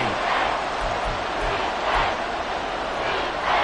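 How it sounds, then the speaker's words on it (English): Stadium crowd in the American football video game Madden 24 roars steadily, a dense, loud wash of cheering that swells in waves throughout. "This crowd turning up the decibel level."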